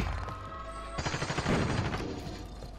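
Gunfire in Call of Duty Warzone, a sharp onset of rapid repeated shots forming a quick rattling burst that stays loud through the rest of the moment, with no speech over it.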